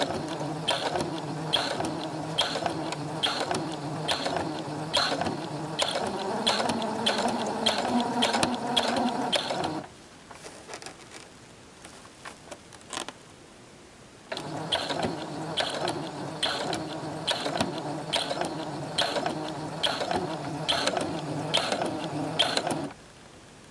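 A sewing machine stitches piping onto a fabric clutch in a fast buzzing whir, running in two long bursts separated by a few seconds of quiet, close and with no talking.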